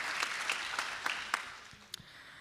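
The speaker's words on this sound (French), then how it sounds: "Vous avez raison d'applaudir." A small conference audience gives brief, light applause, a few scattered claps close by, fairly quiet and quickly fading.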